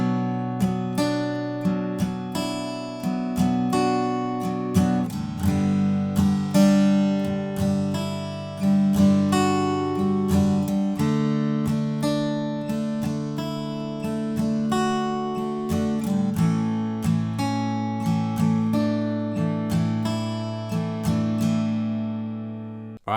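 Acoustic guitar playing the verse of a song in standard tuning without a capo, melody picked over chords, strummed and plucked notes ringing close and full with no talking.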